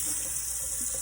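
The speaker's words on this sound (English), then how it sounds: "We're going to wash these potatoes and we're going to cook them with." Tap water runs steadily into a kitchen sink as potatoes are washed, a close, continuous splashing rush with no talking.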